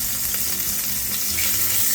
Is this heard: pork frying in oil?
yes